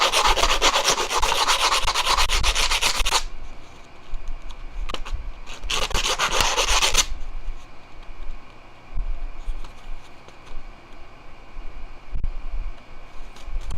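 Sandpaper rubs back and forth over a wooden serving spoon being shaped into a fork, a loud rapid scratchy rasping at first, then a shorter second burst, followed by quieter intermittent light scraping and handling.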